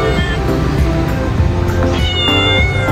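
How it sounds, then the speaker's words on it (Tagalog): A trapped stray cat meows loudly and insistently from inside a pest-control trap, with several drawn-out cries close by. "So maririnig din niyo yung meow niya."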